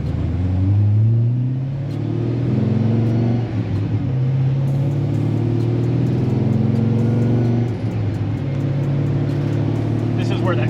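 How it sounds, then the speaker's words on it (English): A Corvette V8 rumbles at close range with a deep, throaty idle that swells in rising and falling revs, and talk is heard over it. "it really didn't make proper V8 noises until now"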